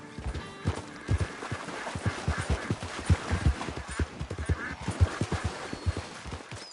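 Horse hooves clip-clop steadily at a walking-to-trotting rhythm in the video game Red Dead Redemption 2, a close, even series of hollow knocks with no talk over them.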